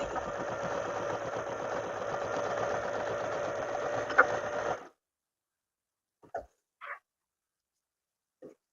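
Sewing machine running steadily on a fabric tailored vest, stitching straight and zigzag seams: a continuous loud mechanical whir for nearly five seconds, then stopping, followed by a few faint handling sounds in quiet.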